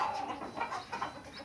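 A Kinantan rooster calls loudly and close during a bird duel, a run of harsh clucking, crowing bursts with short pauses between them.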